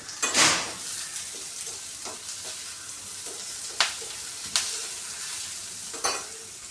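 Curry leaves dropped into hot oil to temper a home-cooked fish curry, giving a brief sharp sizzling burst at first, then a low steady frying hiss with a few soft clinks of a spoon or pan.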